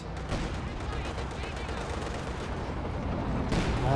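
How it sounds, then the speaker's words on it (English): Sustained rapid MG42 machine gun fire in Company of Heroes 2 rattles on continuously as a dense battle din, with a commentator's voice running over it. "Those MG42s."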